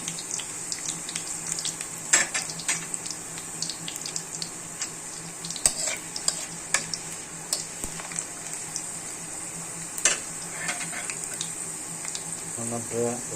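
Garlic and onion fry in a pan with a thin, steady sizzle, broken by sharp pops and utensil clicks. A brief voice comes in near the end.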